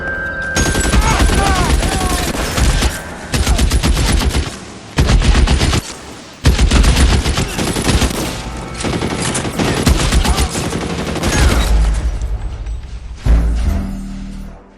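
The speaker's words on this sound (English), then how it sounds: "Guns!" Gunfire in the video game LA Noire: loud, dense bursts of rapid shots and rattling volleys, with brief pauses between them, continuing for the whole stretch.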